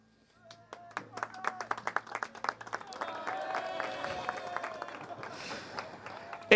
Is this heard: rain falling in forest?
no